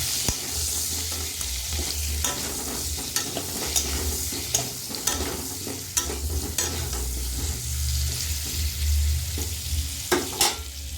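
Papaya pieces fry in a pan with salt and turmeric, giving a steady sizzle broken by frequent sharp scrapes and clinks as a spatula stirs them.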